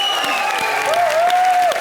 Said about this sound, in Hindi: कॉमेडी नाइट बचाओ के लिए जोरदार तालियां हो जाएं।